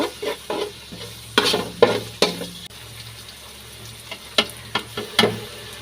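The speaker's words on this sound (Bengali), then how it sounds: "পেঁয়াজগুলো ভেজে এখানে তেজপাতা, লং, এলাচ, দারচিনি সব কিছু দিয়ে একটু ভেজে নিব।" Onions frying with bay leaf, cloves, cardamom and cinnamon in a pot, a low steady sizzle broken by repeated sharp scrapes and clinks of a spoon stirring, close by with no one speaking.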